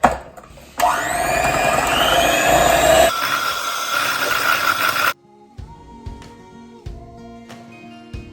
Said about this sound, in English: You can whisk it now.